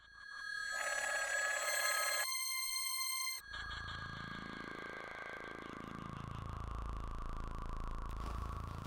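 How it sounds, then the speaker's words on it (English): An old telephone bell rings loudly in sustained bursts, then a long electronic ringing tone with a sweeping drone carries on alone to the end. "John, I was standing there with the phone in my hand and it rang."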